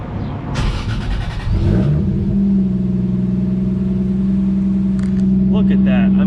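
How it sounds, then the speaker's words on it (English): Lexus IS300 running on a Link ECU cranks and fires, revs briefly, then settles into a steady idle with a droning hum up close; a voice talks faintly near the start. "for the most part, the engine starts up and idles"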